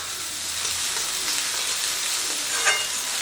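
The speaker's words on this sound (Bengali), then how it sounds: "আদা রসুন হলুদ পেঁয়াজ সব কিছু বেশ ভালো করে ভাজা করে নিতে হবে।" Ginger, garlic, onion and turmeric fry in a pan for a restaurant-style paneer bhuna masala, giving a dense, even close sizzle with faint stirring scrapes and no voices.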